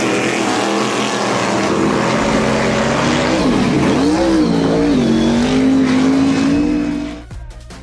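A loud, roaring big-bike motorcycle engine runs continuously with its pitch dipping and then climbing as it revs, ending abruptly.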